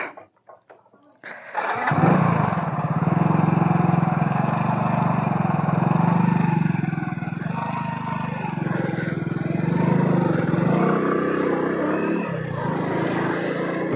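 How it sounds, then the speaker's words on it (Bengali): A Hero Splendor motorcycle engine kicks into life after a brief quiet start, then holds a steady, close, droning idle that continues uninterrupted throughout. "আমি এখন দাদার বাইকে দ্য লেজেন্ডারি স্প্লেন্ডার"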